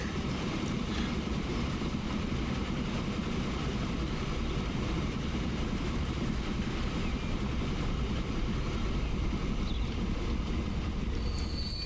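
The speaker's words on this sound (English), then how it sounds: "Here comes our train." A train pulls in within the Transport Fever railway simulation, a steady, loud rumble of rolling wagons with faint clickety-clack and brief high wheel squeal near the end, continuous and without talk.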